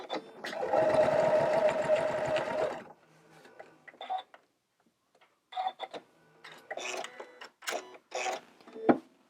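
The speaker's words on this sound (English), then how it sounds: "so stitch with the 1/4 inch seam" A sewing machine stitches a quarter-inch seam on a pieced quilt block in a steady, loud, close run of about three seconds. Fainter handling sounds and light clicks follow.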